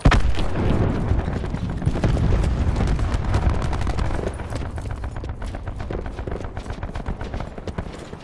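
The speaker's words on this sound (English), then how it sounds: "Throwing cluster grenade." A cluster grenade going off in Call of Duty Black Ops 4, loud and close, a dense chain of overlapping blasts and crackles that starts at once and then fades slowly over several seconds.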